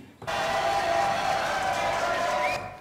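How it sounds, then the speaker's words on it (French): A studio audience breaks into loud, sustained applause and cheering on a French variety show, the crowd noise rising sharply and holding strong until it fades at the very end. "Applaudissements"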